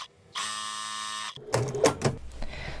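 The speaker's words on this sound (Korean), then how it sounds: "옆선만 양쪽으로 박음질 해주도록 하겠습니다" A sewing machine stitches the side seams of a square-neck flared blouse in one steady, whirring burst lasting about a second. Clunks and fabric-handling rustles follow.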